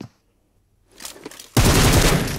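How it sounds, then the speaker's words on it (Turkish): Gunfire in an online shooter, fired through a wall from the floor below: near silence, then a few scattered shots, followed by a loud, sustained burst of rapid fire that fills the rest of the moment. "Adam beni duvardan vurdu. Bak, alt kattan üst kata vurdu."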